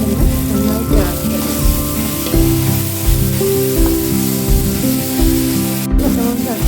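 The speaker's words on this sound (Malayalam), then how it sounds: "പച്ചമുളക് ചതച്ചിട്ട് ഇളക്കി കൊടുക്കുകയാണ്" Crushed green chili, ginger, garlic and tomato fry in a pan for a squid biryani, a loud continuous sizzle with rhythmic scraping and clinking as the mixture is stirred, close up and with no speech.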